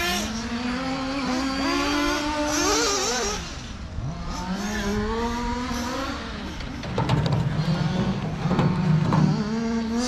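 A Losi Promoto MX RC motorcycle fitted with GPM 7075 aluminium option parts runs at full throttle, its high electric whine rising and falling in repeated pitch sweeps as it accelerates, brakes and wheelies, loud and close throughout.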